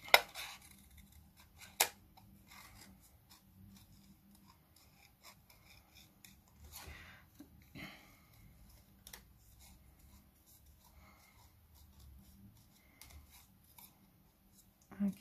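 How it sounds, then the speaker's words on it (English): Scissors fussy cut a paper Christmas tree for a handmade Christmas card, with faint, close, intermittent snips and soft paper rustle, plus a few sharper clicks. "But now I'm going to fussy cut the"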